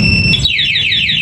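A Raider 150 FI motorcycle's anti-theft alarm sounds after the remote kill switch cuts the engine. It is a loud, close electronic siren that repeats falling sweeps, about four in quick succession.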